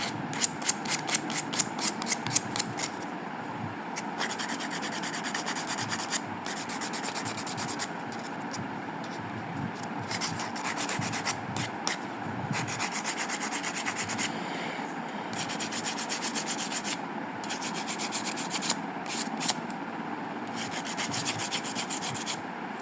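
A 1989 Toyota Crown interior panel part being lightly rubbed during repair, giving a steady close scraping rasp with quick repeated strokes at the start and a continuous rubbing texture throughout.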